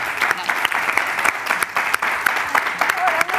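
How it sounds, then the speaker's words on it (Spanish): An audience applauds two guests, Carolina and Irene, walking on at a Special Olympics talk show taping: dense, steady clapping fills the room from start to finish, with a brief voice heard faintly near the end. "Pues un aplauso inmenso para Carolina e Irene."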